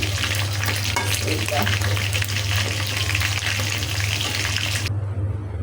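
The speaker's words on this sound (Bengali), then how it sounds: "ওই তেলটার মধ্যে আমি গ্রেট করা মুরগি ভেজে নিব।" Chicken marinated in ginger and garlic fries in hot oil in a pan, giving a loud, dense, continuous sizzle that cuts off abruptly near the end.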